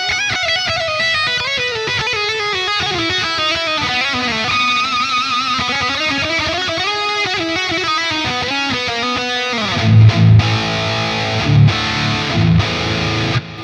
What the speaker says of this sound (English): Sounds really nice with that reverb and delay on there. It sounds like a nice plexi would